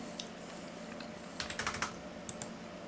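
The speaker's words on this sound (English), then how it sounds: "Or pull the keyboard out. Alright, what am I typing?" Quick burst of computer keyboard typing against a steady background hum, a cluster of about half a dozen crisp key clicks followed by a couple of isolated taps, close by with no voices.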